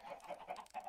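Chickens clucking in the video game Minecraft, a run of short, repeated clucks at moderate level over about a second, fairly close and with no talk.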